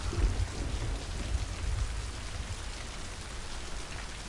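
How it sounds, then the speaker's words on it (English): Steady video game rain hiss with a low rumbling undertone, continuous and fairly even throughout, no voices. "Stop it raining, because it's annoying."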